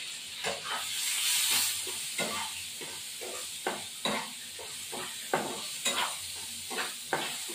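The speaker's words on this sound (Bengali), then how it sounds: "এবার হলুদ গুঁড়ো দিয়ে এবার একটু নাড়াচাড়া করে দেবো।" Turmeric powder being stirred into frying prawns in a pan, with steady sizzling and a hiss underneath and repeated scraping, stirring strokes throughout, fairly close and alone with no talk.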